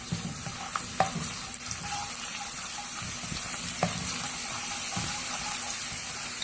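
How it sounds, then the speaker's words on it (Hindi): Finely chopped garlic frying in oil in a pan, a steady soft sizzle with occasional stirring clicks and scrapes, close and continuous with no talking. "लहसुन को हम फ्राई कर रहे हैं, कलर चेंज होना शुरू हो गया है।"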